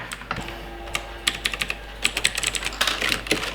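Fingers type on a cheap mechanical keyboard, close, crisp key clicks coming in irregular bursts and quickening into a denser flurry toward the end, with no talking.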